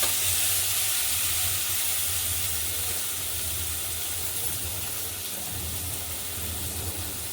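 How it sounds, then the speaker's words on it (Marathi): Thick paste of green chili, garlic and cumin hits hot oil, giving a steady close sizzle with a low bubbling rumble underneath that gradually eases, no talking. "तेलामध्येच आपण इथं हिरवी मिरची लसूण आणि जिऱ्याची जाडसर अशी पेस्ट करून घेतलेली आहे ती टाकूया"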